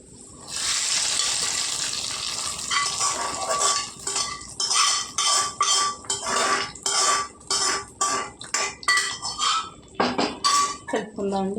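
A spoon clinks and scrapes rhythmically against a metal pot while fried garlic and curry-leaf tempering is mixed into cooked dal, steady close stirring strokes with a few gaps and someone talking in between.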